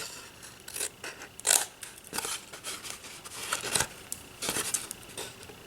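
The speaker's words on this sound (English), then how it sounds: "Cut along the vertical score line there, stop at the horizontal score line, then cut wedges out." Scissors snip wedges out of scored paper for a handmade Ferrero Rocher candy box, giving a close series of crisp, irregular cuts and rustles of paper with no talking.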